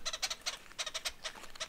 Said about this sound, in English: you can hear the bird making that squeaky chattering sound, and the people are going, brrr